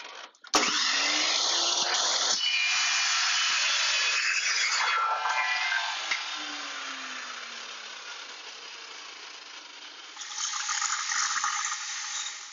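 Small round scrap metal stock, clamped with a vise grip, being cut: a loud, harsh, continuous grinding roar with a falling whine, easing off in the middle and then swelling again near the end.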